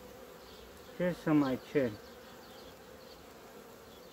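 Honey bees from a strong, non-swarming colony with a red queen hum steadily inside their hive, a dense, even buzz that runs throughout while a person speaks briefly over it.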